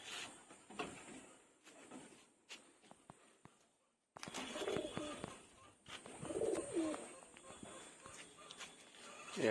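Bondhodumer pigeons, a lively fancy breed, give soft repeated coos close by over a steady bed of background noise and scattered rustles and thumps, with a brief quiet gap partway through.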